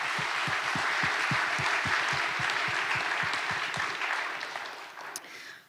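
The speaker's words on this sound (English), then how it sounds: "So let's give them all a big round of applause." An audience at a startup competition finalist showcase claps steadily, with a few louder, nearer hand claps standing out, and the applause fades away toward the end.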